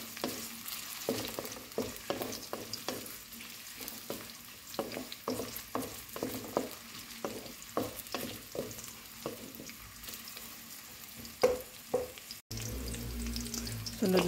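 Onions sauté in a pan with a low, steady sizzle, broken by a regular series of scraping stirs, close and moderately quiet, with no talking.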